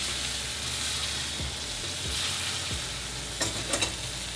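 Fish fries in butter in a hot pan, giving off a loud, steady sizzle that fills the whole stretch, with a few brief clinks and scrapes near the end.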